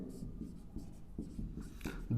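Chalk or marker scratches out letters on a board during a Hindi alphabet-series reasoning lesson, a run of short, close strokes with brief pauses between them and a faint voice murmuring underneath.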